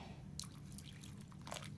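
Water trickles and drips into a small dish in a tarantula enclosure, a few faint splashes and patters heard close up in an otherwise quiet room.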